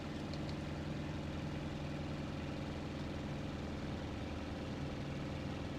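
An overheating aircraft engine in the flight sim IL-2 Sturmovik, from a Japanese A6M5 fighter campaign, drones as a steady low rumble with constant vibration throughout, moderately quiet and without speech.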